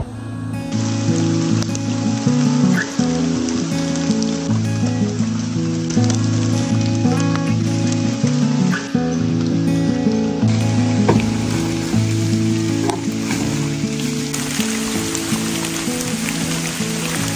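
Heavy rain falls during a mushroom forage, a loud, dense, steady patter and hiss of drops on surfaces that runs unbroken for the whole stretch with no talk.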